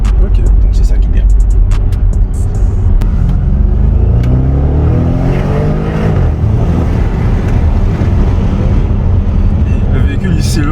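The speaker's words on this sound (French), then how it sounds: "Le véhicule il s'élance tellement bien, tellement vite" A 605 hp Audi RS6 accelerates hard, its engine note climbing in rising sweeps over a deep rumble, loud and close, with someone talking over it.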